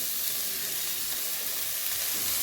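Fresh fenugreek leaves hitting a hot pan with turmeric and salt, giving a steady, close sizzling hiss that holds evenly for a couple of seconds.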